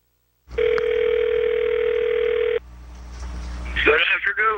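A telephone dial tone holds steady for about two seconds before an outgoing call, then cuts off to quiet line hiss, followed by a brief voice at the end.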